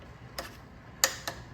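A torque wrench clicks while motorcycle bolts are tightened on a Kawasaki KLX300R, giving three sharp, close metallic ticks over a quiet background.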